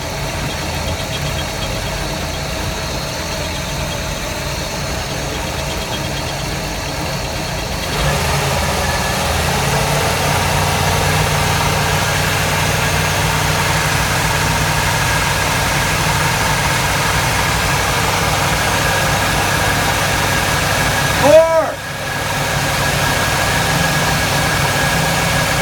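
The port engine of a Uniflite 38 boat runs steadily with a droning rumble, and a very minor noise is suspected from the impeller pulley. Around eight seconds the engine revs up to a higher, louder drone, and a brief clunk sounds near the end.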